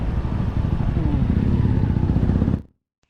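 A motorcycle carries a rider through the streets of Mae Sariang town, its engine a steady close rumble with road noise that continues without a break and then stops abruptly near the end.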